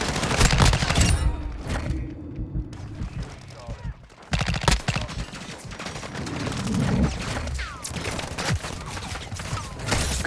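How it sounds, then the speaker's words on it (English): Gunfire fills an online first-person shooter match, with dense bursts of automatic fire and scattered single shots going on nearly the whole time. A player talks over the shooting at moments. "There's a guy just shooting."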